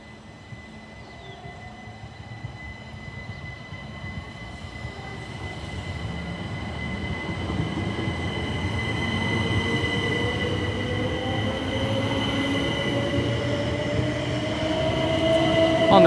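A Southeastern class 375 electric train departs Tonbridge station, its traction motor whine rising steadily in pitch with rumbling wheels and faint squeal, growing louder and closer over the clip.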